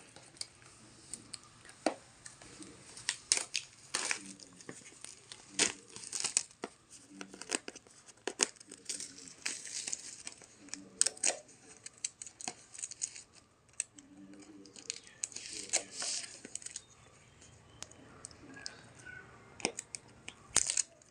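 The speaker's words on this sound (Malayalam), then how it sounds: "നമുക്കൊന്ന് അൺബോക്സ് ചെയ്യാം" A product package is unboxed, with crisp snips of scissors and bursts of tearing and crinkling packaging coming in irregular bursts up close, no talk alongside.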